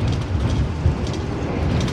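Progo passenger train rolling on rails just after leaving Haurgelis station, heard from inside the carriage as a steady low rumble with rhythmic clatter throughout, fairly loud and continuous.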